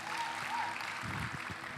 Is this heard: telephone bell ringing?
no